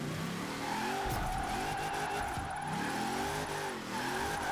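Hot Wheels Bone Shaker car drifting through a drift zone in Forza Horizon 4, with a steady loud engine roar, revving surges and tire squeal running throughout.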